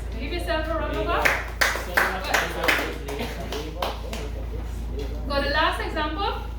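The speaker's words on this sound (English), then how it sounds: "Give yourself a round of applause." Students clap together in a classroom: a burst of sharp, uneven handclaps builds for a few seconds and then fades, framed by speech before and after.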